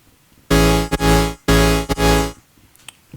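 A clean, bright saw-wave synth patch in Serum, its tone swept by an LFO, plays two sustained notes, each broken by a short stutter, loud and dry before fading to near silence.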